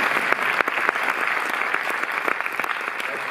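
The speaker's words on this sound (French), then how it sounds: "Applaudissez Philippe, sinon vous n'allez pas voir." An audience applauds at a talk at the Cinémathèque in Paris, with steady, moderately loud clapping from a crowd. A few sharper individual claps stand out above the rest.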